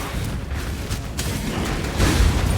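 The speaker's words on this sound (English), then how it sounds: "getting the extra explosions for Ascendancy I think are so goddamn worthwhile" A video game Ascendancy skill sets off muffled explosions that thud and crackle continuously at moderate volume, with a louder burst toward the end.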